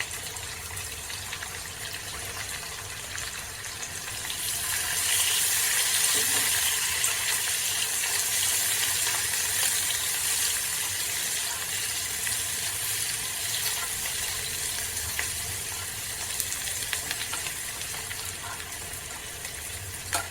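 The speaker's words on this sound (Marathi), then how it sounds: "एक मोठ्या आकारचा कांदा मी बारीक कापून घेतलेला आहे तो तेलामध्ये आपण गोल्डन ब्राऊन होईपर्यंत भाजून घेऊया" Finely chopped onion fries in oil until golden brown, a steady, loud sizzling hiss close by that swells slightly after a few seconds and continues unbroken, with no talking.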